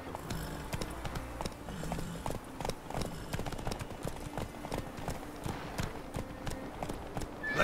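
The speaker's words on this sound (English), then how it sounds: "Where are these horses come from?" Horses clip-clopping in The Witcher 3 on PC, a steady run of hoof beats at close range layered with game ambience and a brief snort, no one talking.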